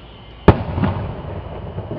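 A sharp Fourth of July firework bang is followed by crackling rumble, then another burst begins at the end; fairly loud with no voices.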